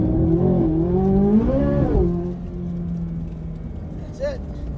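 A Chevrolet Corvette C8 Z06 launches using launch control, its engine revving up in a sharp rising surge before dropping away within a couple of seconds. A quieter rumble follows.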